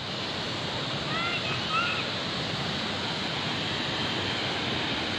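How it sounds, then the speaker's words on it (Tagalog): Continuous broadband rush of flowing water at Sabsaban Falls waterfall, a steady wash holding even level throughout, with a couple of faint high bird-like chirps briefly over it. "Makita nyo po na yung pagdaloy ng tubig ay napakaganda"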